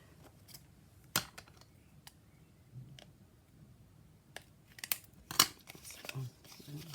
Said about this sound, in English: then I will cut the corners off like this so that they're both the same